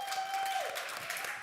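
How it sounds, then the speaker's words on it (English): Faint, thin clapping from a small group during a livestreamed virtual fundraiser gala, brief and quiet with a steady tone running beneath it. "So let's have a huge round of applause for yourselves at home."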